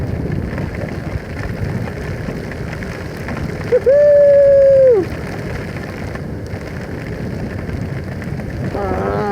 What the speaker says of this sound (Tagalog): Panay-panay ang ulan